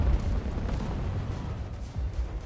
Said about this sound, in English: You fire these little sticky grenades and they explode on the enemy.